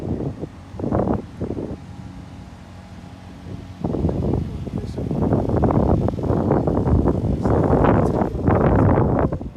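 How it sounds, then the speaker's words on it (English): Wind buffets the microphone in rumbling gusts, at times dropping out briefly, then roaring steadily louder for the rest. "Oh, it's windy"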